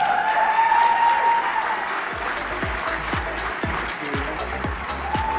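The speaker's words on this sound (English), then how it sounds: "Please give a round of applause, Nicholas Bailey." Audience applause for keynote speaker Nicholas Bailey, the former EastEnders actor, at the Courageous Kids Awards 2018, with sustained dense clapping filling the hall and a few heavier thuds near the end.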